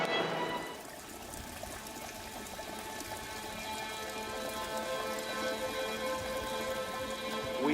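Running water at an outdoor wedding ceremony in Italy gives a steady, moderately loud wash that holds evenly from start to finish, with no voices clearly heard.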